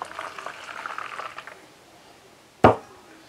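Hot water pours from a dispenser into a cup with a soft, steady splashing for about a second and a half, then fades; a sharp clunk or tap sounds near the end.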